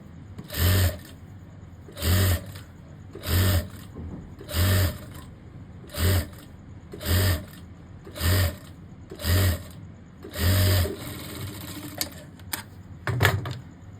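A sewing machine stitches fabric for a boy's cord set in about ten short, regular bursts, each a brief motor whir with pauses between, ending with some scattered clicks and handling.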